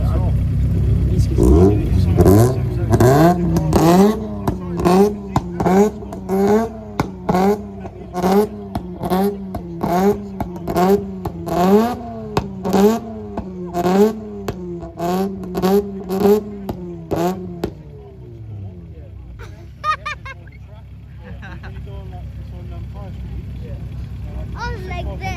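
A BMW at a JDM car meet revs repeatedly in a long run of sharp, rhythmic throttle blips for about seventeen seconds, loud and close, then cuts off, leaving quiet crowd murmur and a few distant voices.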